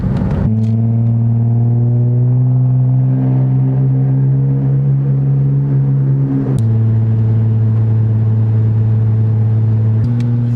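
A car driven hard through corners on eBay coilovers, its engine droning loudly and steadily with a rising then settling tone and brief gear-change shifts, no voices.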